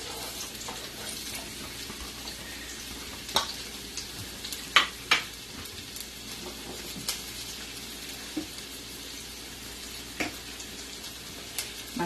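Onions hiss and crackle in hot red palm oil alongside browning meat for an Ivorian okra sauce, a steady low sizzle with scattered sharp pops and a few utensil clicks.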